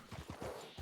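Horse hooves clip-clopping in Red Dead Redemption 2, a short quick run of soft, muffled footfalls, fairly faint and close, with no talk over them.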